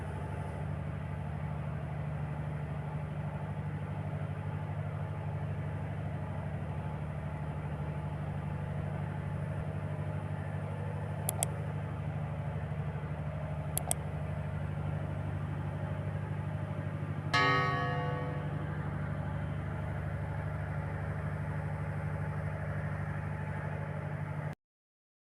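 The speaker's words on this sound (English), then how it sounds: "Now my generator is working fine." A backup generator engine runs steadily after its faults have been cleared, giving a constant mid-low drone with a steady hum. A few faint clicks and a brief rattle break in partway through, and no one speaks.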